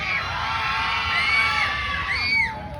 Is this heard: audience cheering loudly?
yes